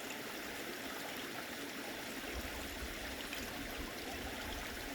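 Creek water flowing steadily at a gold prospecting site, a constant rushing and trickling wash close by with no voices.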